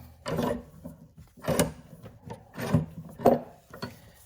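A miniature belt sander rounds over a wooden shotgun stock in short, rough rasping bursts, each roughly a second long with brief gaps between, close and fairly loud.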